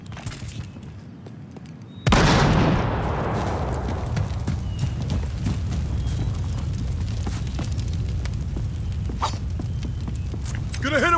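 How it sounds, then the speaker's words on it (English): An incendiary grenade in Battlefield Hardline bursts with a sudden loud whoosh after two quiet seconds, then a steady roaring burn with crackles fills the rest of the clip. "Gonna hit him with the incendiary."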